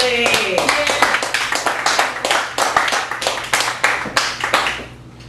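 At an open mic poetry night in a Chicago café, a small audience claps in distinct, fairly rhythmic hand claps that fade out near the end.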